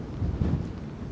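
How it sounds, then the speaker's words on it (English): Gusty wind buffets the microphone outdoors on a freezing cold day by the Brooklyn Bridge in New York City, a steady low rumble with slightly stronger gusts swelling briefly and no talk. "A little windy over here."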